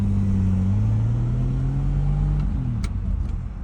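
A 1962 Ford Ranchero engine pulls hard through the gears, a loud, close rumble with rising pitch that eases slightly near the end, with no voices.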